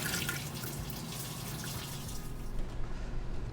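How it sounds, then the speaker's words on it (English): Water runs from a sink faucet onto hands being washed at a home bar, a steady close hiss and splash with no talk, easing slightly toward the end. "Go wash my hands."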